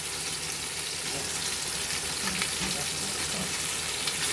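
Red peppers cooking in a hot pan for a red pepper sauce, giving a steady, fairly loud sizzle and crackle that runs continuously throughout.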